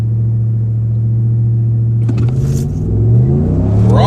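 A 5.7 Hemi truck launching hard from a standstill toward 60 mph, a loud steady engine rumble that rises into climbing revs as it accelerates, heard from inside the cab with no talk.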